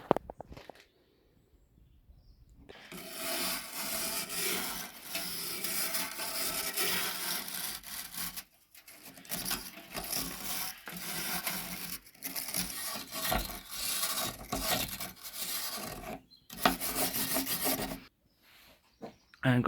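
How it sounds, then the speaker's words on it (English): Sandpaper rasps rust off an old cast iron wood stove in long stretches of gritty back-and-forth rubbing broken by brief pauses, with faint birdsong in the background. "I also have some sandpaper WD-40 for getting a lot of the rust off."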